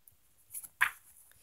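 Puppy barking as a story sound effect, two short yips close together followed by one louder sharp bark, faint and alone.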